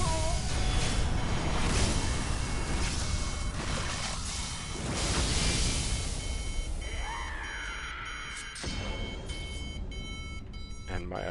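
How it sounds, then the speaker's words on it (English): Alarm in the game Sekiro going off, beeping tones with sweeping whooshes and dense game effects layered underneath, fairly loud throughout. "And my alarm is going off."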